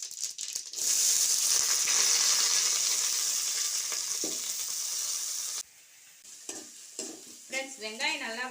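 Onions sautéing in hot sesame oil for a quail gravy: a loud, steady sizzle that fills most of the clip, then drops away, leaving scattered stirring scrapes and clinks.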